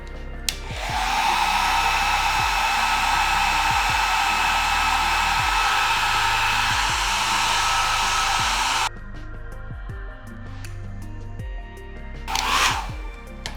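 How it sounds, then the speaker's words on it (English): A hair dryer set to low heat warms a gold-dusted chocolate bar mold, blowing steadily and loudly for about nine seconds before switching off, followed by faint handling clatter. "I'm turning the blow dryer on heat, but I'm going to do it low"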